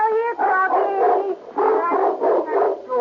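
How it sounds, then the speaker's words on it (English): A Doberman Pinscher dog barks and yelps repeatedly in a radio drama sound effect, several close, loud bursts in an uneven rhythm with short pauses between them. "Doggy! Yes, a Doberman Pinscher."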